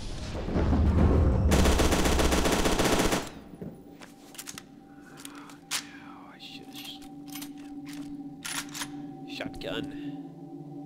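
Shotgun blasts in the first-person shooter Fear 2, a loud dense burst of rapid firing for about two seconds, then quieter scattered shots and clicks over a low game ambience.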